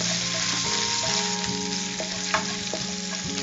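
Curry leaves and finely chopped green chillies frying in oil, a dense, even sizzle held close for a few seconds, with faint stirring scrapes and a brief knock.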